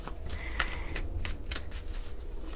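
Tarot cards are shuffled by hand in a quick series of crisp riffling bursts, close and steady, with no talking over them.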